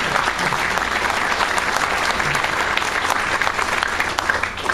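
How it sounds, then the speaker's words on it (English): An audience at a fan convention claps and cheers, a dense, steady wash of applause that stays loud and close for the whole stretch. "That's when you applaud. Yay!"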